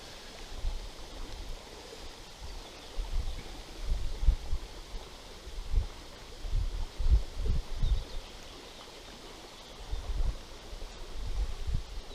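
Wind gusts buffet the microphone beside a small river during chub fishing, with low rumbling bursts coming and going over a steady wash of flowing water and rustling.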